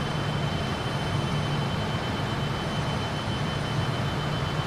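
Fokker F28 jet engines at climb power in a flight simulator game, a loud, steady broadband roar with a constant low hum, unchanging throughout, no voices.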